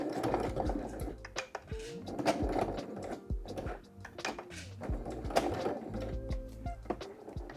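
A sewing machine top stitches a box pouch seam in several quick bursts of rapid mechanical chatter, close and fairly quiet, with short pauses between runs.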